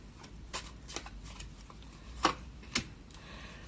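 Tarot cards being handled and drawn, soft papery rustles with a few sharper flicks and snaps of cards, faint and close, no talk.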